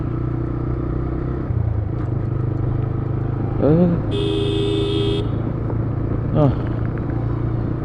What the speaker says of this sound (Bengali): বাইক চালা মজা পাইতাছি আজকে